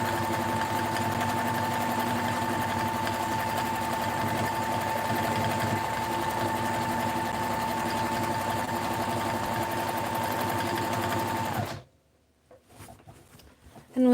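A low shank sewing machine hums and rattles steadily as it runs for machine quilting with rulers. Its motor drone stays loud and constant for about twelve seconds, then stops abruptly, leaving faint handling sounds.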